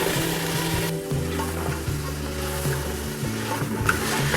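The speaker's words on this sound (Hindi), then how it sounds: "1 से 2 मिनट तक इनको अच्छी तरह भून लेंगे।" Half a kilo each of carrots and peas frying in a pan, a steady close sizzle with stirring and scraping throughout, with a faint low tonal hum underneath.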